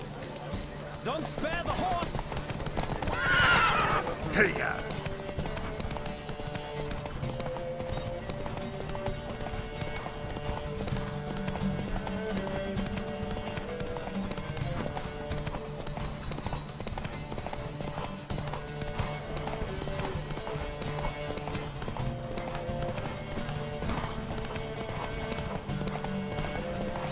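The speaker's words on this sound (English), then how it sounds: "Don't spare the horse!" Horse hooves clip-clop at a gallop during a race in the video game Witcher 3, a steady rhythmic pounding under a busy bed of music and game ambience, with a brief shout and possible whinny near the start.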